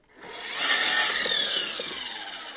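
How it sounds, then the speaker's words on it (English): A chop saw bites through firewood while processing wood for winter in Bulgaria, a loud, steady high-pitched whine and rasp of the blade that swells quickly and holds for a couple of seconds, with no voices. "especially using this chop saw"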